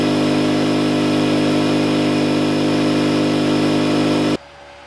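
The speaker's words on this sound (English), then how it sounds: "Right now, instead of using the ball valve, I'm just controlling it with my air compressor knob." Air compressor running steadily, close and loud, feeding an egg washer and set by its regulator knob, with a constant hum that cuts off abruptly near the end.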